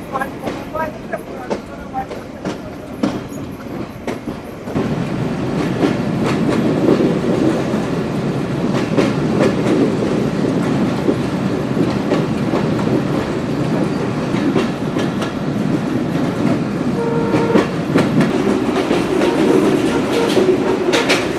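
A passenger train on the Khulna to Jessore line, rounding a slight curve toward Daulatpur station, rumbles loud and steady with rhythmic clickety-clack; the noise swells after a quieter opening and continues to the end.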